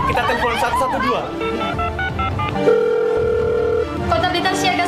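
A telephone call to the 112 emergency number, with a steady tone ringing through the line for about a second, set among a chattering crowd and lively speech before and after.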